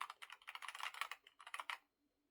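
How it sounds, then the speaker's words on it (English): Rapid keystrokes on a Keychron K10 HE magnetic switch keyboard, heard close and alone as a quick uneven run of crisp clicks that stops abruptly, leaving near silence. "Each key press just..."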